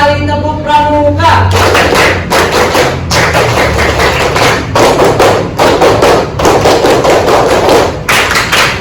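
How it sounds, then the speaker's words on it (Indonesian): Classroom students perform the scout clap, a series of loud, sharp group claps in grouped bursts following a brief voice at the start, close and punchy. "Tiga kali tepuk pramuka."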